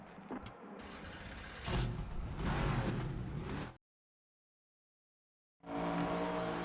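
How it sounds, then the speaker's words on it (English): Race car engines crank and roar to life for an ARCA Series race at Phoenix in the NASCAR 25 video game. Loud, dense revving runs for several seconds, breaks off into silence, then the engines return at full volume. "Drivers, start your engines!"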